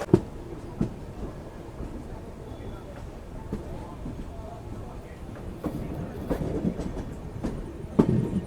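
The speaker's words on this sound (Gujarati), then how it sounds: "તો ભાઈ આપણી ટ્રેન છે તે આવી ગઈ છે કોણાર્ક એક્સપ્રેસ કરજત રેલવે સ્ટેશન ઉપર" The Konark Express stands and rolls at Karjat railway station in India, rumbling with clanks and wheel clatter under steady station ambience, while people talk nearby throughout.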